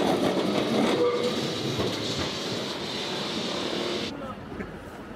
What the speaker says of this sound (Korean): 리스본 하면 노란 트램이 빠질 수 없다.